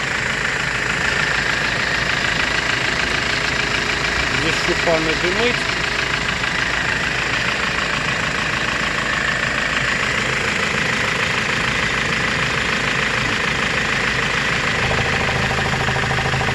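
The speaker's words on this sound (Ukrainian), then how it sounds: "Мотор працює рівно." A Kia Sorento BL 2.5 D4CB diesel engine idles throughout with an even, low rumble, while someone speaks briefly over it.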